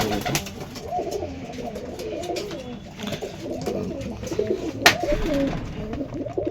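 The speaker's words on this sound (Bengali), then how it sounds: "দেখতে পাচ্ছেন যে সাদা পায়রা দুটো নিচে ছাড়া আছে" White pigeons in a home loft coo softly in low, throaty, rolling phrases that repeat steadily through the scene at moderate distance, with faint background ambience and no talking.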